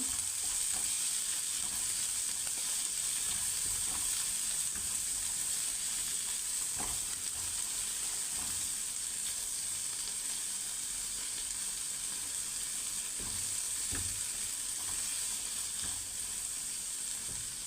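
Shrimp and green chillies fry in a pan for a mixed greens dish, a continuous crackling sizzle with occasional spatula stirring scrapes, fairly quiet and steady, with no talking.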